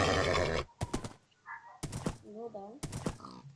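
A horse in the Minecraft video game whinnies in a couple of short, wavering neighs between loud bursts of other sounds, close and clear.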